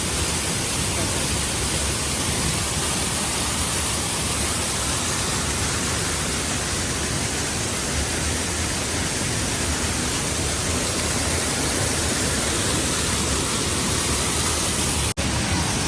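A large waterfall in the Konkan countryside near Lanja, Ratnagiri, gives off a constant, heavy roar of rushing water that stays broad and unbroken at close range, with no clear voices.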